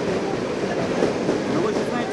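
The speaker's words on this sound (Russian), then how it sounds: "Потому что сейчас приходит туда Монинская электричка." Suburban electric commuter train on the Monino line pulling into a station, a steady broadband rumble of wheels and motors that stays loud and even throughout, with a faint voice mixed in.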